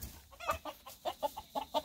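A young rooster clucks in a quick rhythmic series of short, close, fairly loud calls with no talking over them.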